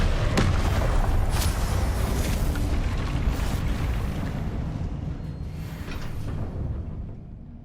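A Confringo fire-blast spell explodes in Hogwarts Legacy, a loud broadband blast with sharp bursts in the first seconds, then a rumbling roar that slowly fades, with no talking over it.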